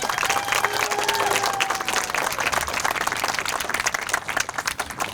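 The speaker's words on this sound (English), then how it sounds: "How about a round of applause for them?" Applause from a graduation audience for a group of students, dense loud clapping with a few scattered cheers, carrying on strongly throughout and tapering slightly at the end.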